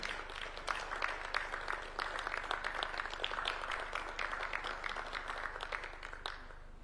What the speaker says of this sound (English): as you shake hands, and a round of applause